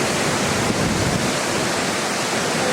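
Ouzoud Falls in the Atlas Mountains of Morocco gives off a steady, loud roar of falling water. The dense rushing noise is unbroken and stays at the same level throughout, with no voices.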